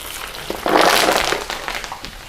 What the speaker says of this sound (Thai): ผมจะนำใบมะกรูดนะนำลงกระทะเลยครับ